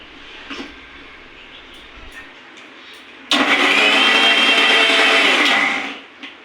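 A mixer grinder blending mango ice cream whirs loudly for a few seconds after quieter background noise, then winds down and stops.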